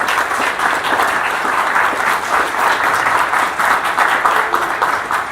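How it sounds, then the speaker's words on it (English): A tech-talk audience claps loudly and continuously for about five seconds. The applause is dense and many-handed, with a slight pulsing swell. "Can we have another round of applause for him,"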